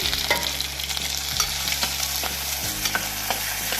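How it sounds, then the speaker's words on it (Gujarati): Sliced spiny gourd (kantola) sautéing in oil in a pan over a low gas flame, a continuous close sizzle with repeated light scrapes and taps of a spatula stirring, and a low steady hum beneath. "અને ધીમા ગેસ ઉપર જ આને આપણે સાતળવાના છે. તો આવી રીતે આપણે સાતળશું."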